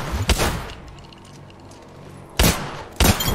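Gunfire in the battle royale game Apex Legends: a loud burst of shots at the start, a quieter lull, then two more sharp close bursts near the end.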